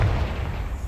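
A Confringo fire spell explodes in Hogwarts Legacy: one short, heavy boom with a deep low-end thud that rolls on briefly, loud and close, with no talk over it.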